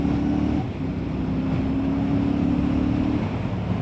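A Royal Enfield Classic 650 motorcycle overtaking on the road, its steady engine drone loud and continuous under heavy wind rush, with a brief dip in pitch partway through.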